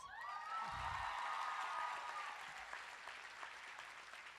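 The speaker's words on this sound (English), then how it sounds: "I think we deserve the biggest round of applause" Applause from a high school commencement audience at a 2022 graduation ceremony: a broad, steady wash of clapping from a large crowd, fairly distant, with a brief cheer or whoop near the start.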